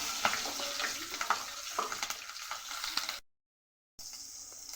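Nigella seeds and green chillies spit and crackle in hot oil, a close, busy sizzle with scattered pops that cuts off abruptly into silence, then resumes more quietly.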